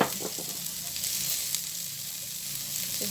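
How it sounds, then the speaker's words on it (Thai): Mushrooms and holy basil stir-fry in oil for an Isan-style home dish, giving a steady close sizzle with faint stirring scrapes and no talk. "นี่ก็มาผัดกะเพราต่อเลยค่ะ"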